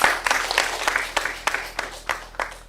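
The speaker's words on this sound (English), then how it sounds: "Please, let's give him another round of applause." Applause from an audience at a disability inclusion seminar at a university, a scattered patter of hand claps with periodic louder bursts, moderately distant and steady throughout.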